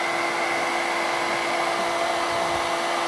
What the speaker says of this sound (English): If you can even hear me over the blow dryer